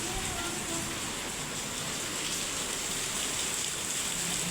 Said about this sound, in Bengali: ঘুম থেকে উঠেই দেখি বাইরে প্রচণ্ড পরিমাণে বৃষ্টি হচ্ছে